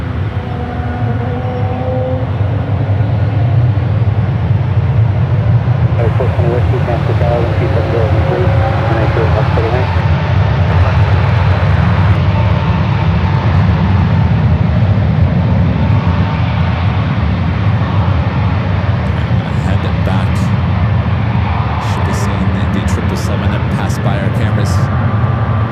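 A Boeing 777 airliner taxis past at San Francisco airport, its loud, sustained engine roar and rumble swelling as it passes close by, with a voice talking over it.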